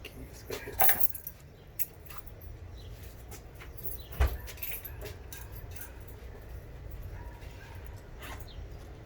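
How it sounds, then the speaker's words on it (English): Keys jangle in short metallic bursts during work on a 2009 Nissan Pathfinder transmission control module, with a dog faintly whimpering and yipping in the background. "My keys."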